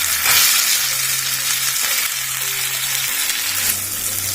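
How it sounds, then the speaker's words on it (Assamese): Potato pieces with banana flower fry in a pan with tomato, a steady broadband sizzle throughout with faint stirring scrapes and low hum, no talk. "আলু আৰু কলডিলখিনি অলপ ভাজি ল'ম"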